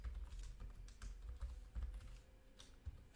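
Quick, soft keystrokes tap on a computer keyboard in an irregular burst of typing, close and quiet, with no talking.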